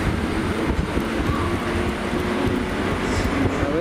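A Class 769 train departing Cardiff, a steady loud rumble of engine and wheels close by, with faint clicks and squeals over the continuous drone.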